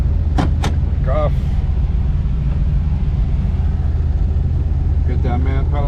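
A 1971 Dodge Challenger R/T pulls hard in first gear, a loud, dense, continuous engine roar filling the whole stretch from inside the cabin, with brief voices cutting over it near the start and end.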